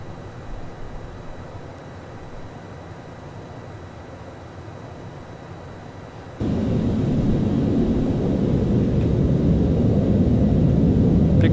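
Steady broadband roar of a loud aircraft passing close by in the X-Plane 11 flight simulator, jumping abruptly louder partway through and holding there with no talk.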